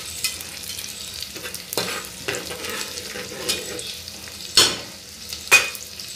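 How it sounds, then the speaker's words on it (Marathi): Ingredients for Marathi-style prawn rice sauté in a pan, a soft sizzle under a series of sharp stirring scrapes, the loudest two near the end, heard up close without speech. "परतून घ्यायचं आहे व्यवस्थित"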